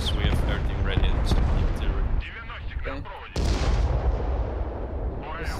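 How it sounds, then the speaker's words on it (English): Artillery barrages boom repeatedly in the Broken Arrow strategy game, with dense, loud overlapping blasts that break off briefly before a renewed sharp salvo rumbles on. "He really took out his artillery"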